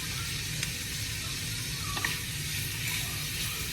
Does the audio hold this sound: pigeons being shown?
no